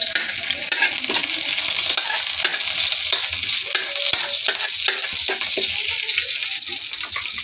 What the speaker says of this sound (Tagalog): Gigisa na tayo ng mga sibuyas mga idol.